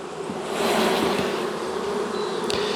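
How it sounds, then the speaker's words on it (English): Honey bees shaken from a frame into a nuc hive fill the air with a loud, dense, continuous buzzing swarm that swells slightly and holds steady close by. "Shake all your bees and they got nowhere to go."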